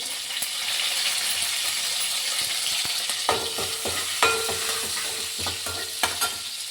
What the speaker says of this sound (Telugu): కొంచెం జీలకర్ర వేస్తున్నాను.